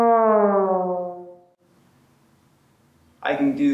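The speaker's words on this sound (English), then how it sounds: "One of my favorite sounds on the trombone, though, is the glissando, and it sounds like this." Trombone glissando sliding smoothly downward in pitch for about a second and a half and fading out, followed after a short quiet pause by a person starting to speak.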